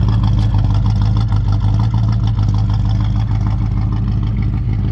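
The 289 V8 in a 1970 Ford Maverick Grabber runs at a steady, loud, close idle with a deep, even rumble and slight pulsing throughout.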